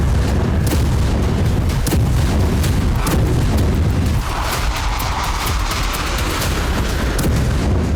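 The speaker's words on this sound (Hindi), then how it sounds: "यूक्रेन ने स्टॉर्म शैडो मिसाइलों से रूसी शहरों में इसी तरह से एक के बाद एक 10 धमाके किए" Storm Shadow cruise missile strikes land on Russian cities as a loud, continuous barrage of booms and sharp blasts that roll together with dense low rumble for the whole stretch, without talk.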